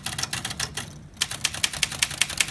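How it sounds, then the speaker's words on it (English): Steady, rapid keystrokes on an Underwood manual typewriter, each a crisp snapping clack close up, with a brief pause midway before the even typing rhythm resumes. "When you type on a manual typewriter, it's a snap."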